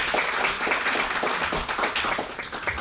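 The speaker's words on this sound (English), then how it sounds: "Just give another round of applause," Audience applause at an academic presentation session in a college setting, a steady, dense patter of many hands clapping at moderate loudness throughout, with no voices over it.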